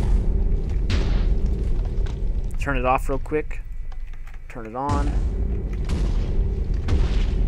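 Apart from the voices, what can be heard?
explosion from Minecraft Atomic Science mod machine, video game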